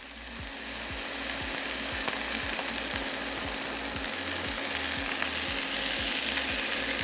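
Sous vide lamb chops, pressed down in hot oil in a pan, sear with a loud, continuous sizzle and a regular ticking pulse underneath, with no talking.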